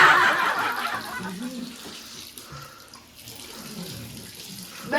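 Tap water runs steadily in the early morning, a broad watery hiss that is strongest at the start, then eases under a soft voice and small handling noises.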